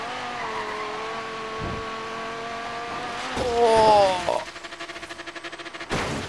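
A racing video game car hums along at steady engine pitch, then its tires skid with a rising, squealing whine before a fast pulsing rattle takes over, all loud and close.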